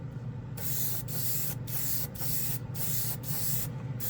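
A NEOECO airbrush sprays paint in repeated short bursts, a hissing rush of air that cuts off briefly about every half second, close and steady, with no speech.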